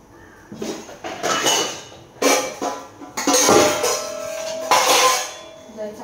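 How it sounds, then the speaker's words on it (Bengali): A cooking pot holding rice is picked up and set down in a home kitchen, giving several separate metallic clanks and scrapes in bursts with brief pauses between, close by. "এদিকে আমি চালটা নিয়ে আসি হাঁড়িতে করে"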